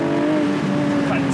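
A Porsche GTS 4.0 engine revving, a loud steady close-up drone with a clear held pitch climbing slightly, engine tone continuous throughout the short burst.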